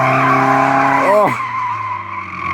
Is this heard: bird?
no